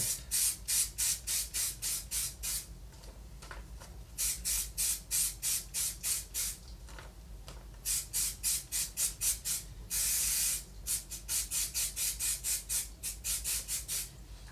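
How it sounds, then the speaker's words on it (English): Spray adhesive hisses from an aerosol can onto paper in quick repeated bursts, short sharp sprays in rhythmic groups with brief pauses, close and loud. "So I'll give this a wee spray over here."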